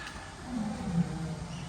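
A zoo tiger gives a low, rumbling roar that swells and fades, distant and fairly faint against soft background ambience, with no talking.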